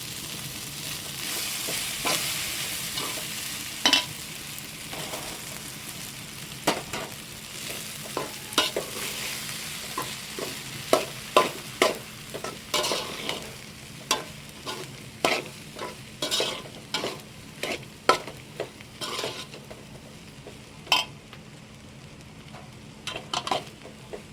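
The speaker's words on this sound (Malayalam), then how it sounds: "ചോറ് ചേർത്ത് നല്ലോണം ഒന്ന് മിക്സ് ചെയ്തെടുക്കണം" Cooked rice folded into tomato masala in a pan for tomato rice, with a continuous soft sizzle punctuated by many sharp spoon scrapes and knocks against the pan, close up and without talk.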